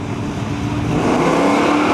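A Chevelle wagon, street legal and running high 11s, roars down the Cayuga dragstrip at a nostalgia drag race, a loud sustained engine howl rising steadily over two seconds.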